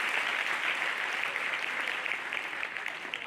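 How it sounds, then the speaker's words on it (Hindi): An audience claps in steady, continuous applause, fairly loud and sustained for a few seconds without speech. "ताली बजाने के लिए।"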